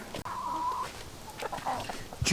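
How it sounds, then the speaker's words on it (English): Chickens on a farm in Siberia, Russia, clucking and squawking close by in short bursts, including one drawn-out call, with brief rustling and no talk. "Calm down, chickens."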